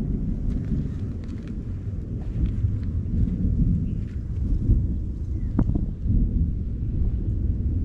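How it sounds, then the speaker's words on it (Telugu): Thunder rumbles low and steady through the whole stretch over rain and wind noise, outdoors in hilly country at night during rituals, with one louder crack midway. "ఇదిగోండి ఈ ప్లేస్కి వచ్చినప్పటి ఉరుములు అయితే వస్తున్నాయి."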